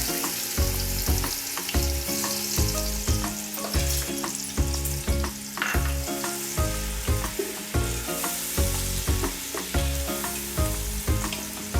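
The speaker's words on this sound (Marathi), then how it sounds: "तेल गरम झालेलं आहे चांगलं. त्याच्यामध्ये आपण आता हा कांदा टाकून घेऊया." Onion sizzles and crackles steadily in hot oil for a homestyle spicy chicken gravy, a loud, close, continuous frying hiss with rapid popping and stirring scrapes, no voices.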